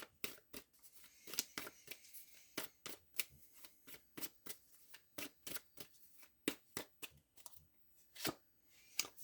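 Tarot cards being shuffled and drawn, heard as a close run of crisp, quick riffling flicks and snaps that repeat in irregular bursts with no talking.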